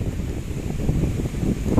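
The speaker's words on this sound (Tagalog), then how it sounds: "Lakas ng hangin ngayon Hangin habagat" Strong habagat monsoon wind roars steadily against the microphone, a dense low rumble with gusty surges and no talk.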